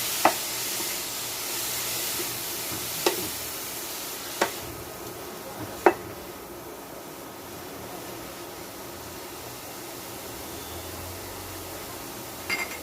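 Grated radish with fried lentil dumplings is stirred in a frying pan over a medium flame, with a soft continuous sizzle and a few sharp clicks of the spatula against the pan, close and quiet.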